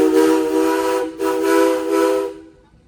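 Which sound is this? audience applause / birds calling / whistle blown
whistle blown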